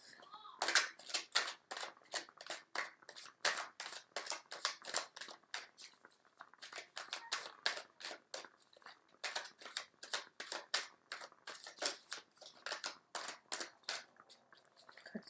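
Rapid, crisp flutters of tarot cards being shuffled in repeated bursts, close and loud, with brief gaps between riffles; the cards stick together.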